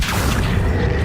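Casting the Accio summoning spell in Hogwarts Legacy brings a loud, dense, booming low rumble that holds steady for about a second, close and unbroken.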